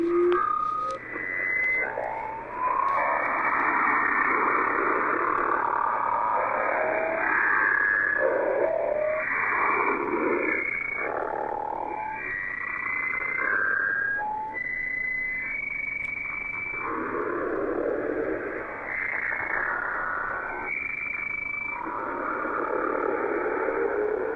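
Eerie tonal signals from a 2013 shortwave radio recording: wavering, sliding tones that overlap and drift continuously above a steady bed of static hiss, with no voices present.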